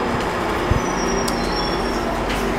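Steady, loud rumble of a GO commuter train in motion, continuous wheel and carriage noise with a faint high squeal and a brief clunk, no talk.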